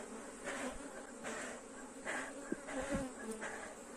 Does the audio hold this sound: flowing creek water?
no